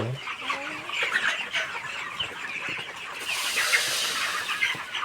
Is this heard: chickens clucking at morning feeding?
yes